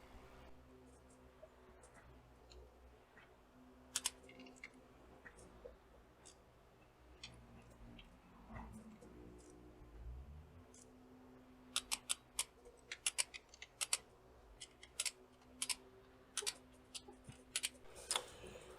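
Ratcheting clicks from a torque wrench tightening inner primary bolts on a Harley-Davidson motorcycle, working in alternating order. Faint at first, then a quick burst of sharp, close clicks in short runs near the end, with a low hum underneath.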